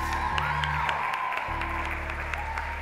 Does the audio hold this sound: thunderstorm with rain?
no